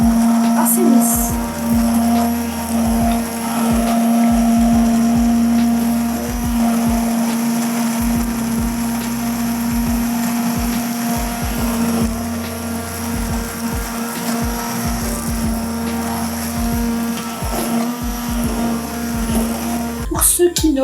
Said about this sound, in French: Donc je vais remixer jusqu'à ce que ça soit assez lisse.